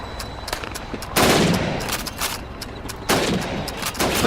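Automatic gunfire from the Call of Duty 2 video game during Russian campaign training, with rapid crackling bursts in two loud volleys separated by scattered single shots and clatter, no voices.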